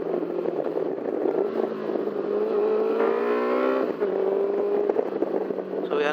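Honda CB400SF café racer motorcycle engine revving in second gear, its pitch climbing and falling as the throttle opens and closes, steady and fairly close for the whole stretch.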